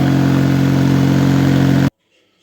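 A GAB 4T petrol generator runs close and loud with a steady, even engine drone that cuts off abruptly, leaving near silence.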